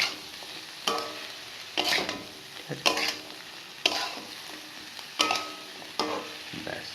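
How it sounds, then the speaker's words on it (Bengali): Vegetables for fried rice fry in a pan with a soft sizzle while a spatula scrapes and stirs in steady strokes about once a second, with no talking. "ভালো করে ভাজা হবে"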